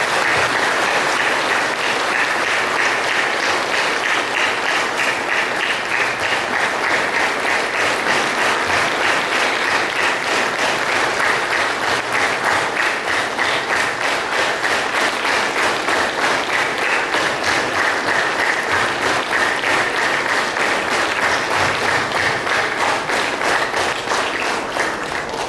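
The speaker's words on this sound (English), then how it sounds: "let us clap our hands and receive" A church congregation at a healing service clapping their hands in welcome, sustained loud applause from many people filling the room without a break.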